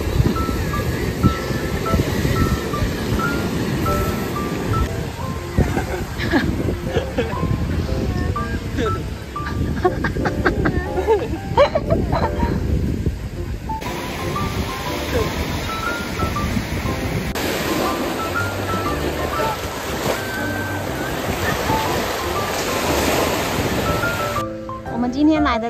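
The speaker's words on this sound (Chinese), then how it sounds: "我们今天来的这个海边叫蓝岛" Ocean waves wash onto the beach at Aoshima in a steady, loud roar of surf with no clear breaks, and voices can be heard over the water at times.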